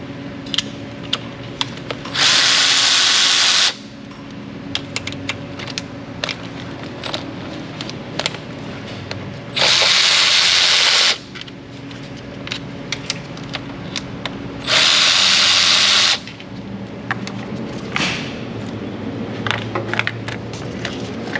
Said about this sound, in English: Now we're going to go around the perimeter and remove all the valve cover bolts.